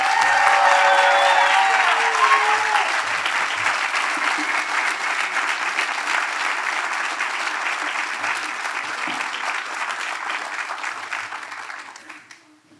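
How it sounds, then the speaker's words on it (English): Sustained applause for eighth-grade graduates at a graduation ceremony, a dense, loud crowd clapping that holds steady and then fades away near the end. "Give it up, one more round of applause for our eighth graders."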